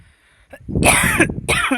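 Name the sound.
cough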